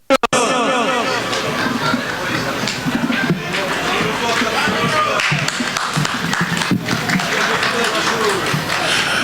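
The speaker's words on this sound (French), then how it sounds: "On va applaudir Omar" A crowd at a Kurdish Nowruz festival in Lausanne applauds a municipal councillor from Renan, steady clapping mixed with chatter and a voice over a loudspeaker running throughout.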